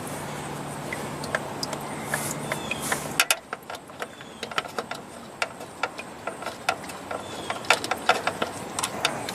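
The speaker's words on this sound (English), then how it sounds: "just taking these fasteners out" Transmission pan fasteners come off a 2011 Nissan Altima CVT with a run of light, irregular metallic clicks and ratcheting ticks, close by, after a brief steadier mechanical hum.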